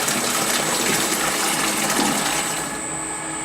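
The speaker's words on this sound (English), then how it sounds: "after a minute, you can dispense out the water one more time." A soft-serve ice cream machine dispenses rinse water during cleaning, a steady whooshing gush with a mechanical whir, continuous and fairly loud, easing slightly toward the end.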